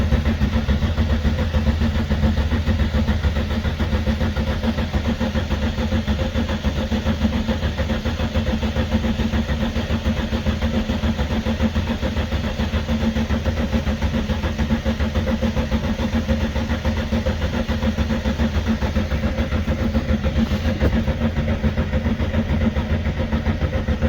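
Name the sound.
1969 VW Beetle engine starting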